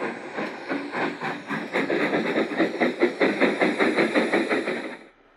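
Steam locomotive hauling a freight train, its rhythmic chuffing beats loud and close with a steady hiss of steam, alone for about five seconds before cutting off abruptly.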